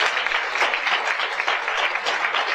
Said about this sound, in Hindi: अपने लिए तालियां बजाइए आप।